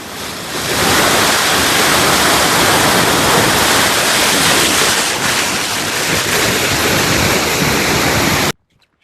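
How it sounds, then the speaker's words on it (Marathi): A waterfall pours loud and steady, a dense continuous roar of falling water at close range that runs unbroken before cutting off abruptly at the end. "तुम्हाला आता आमच्या ओदाड्यातला धबधबा दाखवतो"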